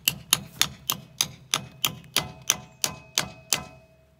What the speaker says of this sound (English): And then I'm just gonna hammer it all into place.